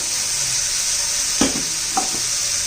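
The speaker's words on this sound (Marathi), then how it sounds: "तीन चार मिनटं झालेले आहेत आपल्या वाटाण्याला तेलामध्ये परतताना" Fresh green peas sautéing in oil in a pan hold a steady close hiss and sizzle, broken by one distinct spoon scrape and a couple of lighter stirring taps.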